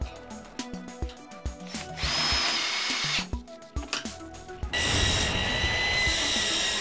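A power drill drives screws into a metal U-profile fastened to timber spacers during Quad-Lock insulated concrete form wall assembly, giving repeated short bursts of whirring that end in a longer, louder sustained run.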